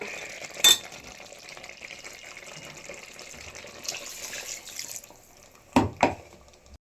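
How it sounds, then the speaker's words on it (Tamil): Water splashes and trickles steadily into a pot of mutton, followed near the end by two short, louder clunks. "இப்போ வந்து தண்ணி சேர்த்துடலாம்"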